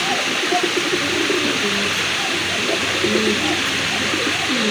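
Rajgolla fancy pigeons, a sky-blue pair among others, coo in low rolling warbles beneath a loud steady wash of hiss and noise, with a voice talking over them.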